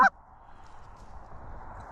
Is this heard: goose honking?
yes